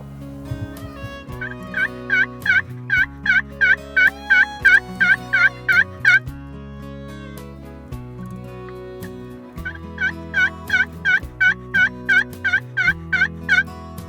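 Merriam's wild turkeys in mountain country gobble loudly and repeatedly, with rapid rattling calls in two long bursts and overlapping voices from a flock of about thirty birds, including several toms. No one speaks.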